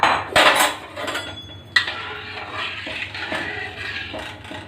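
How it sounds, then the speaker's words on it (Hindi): Gram flour batter stirred in a heavy pan without oil gives irregular scraping and clinking of a utensil against metal, louder bursts early on, then steadier rubbing strokes, close and without voices. "ऐसे हम मीडियम फ्लेम पे 5 मिनट तक यूं ही चलाते रहेंगे लगातार।"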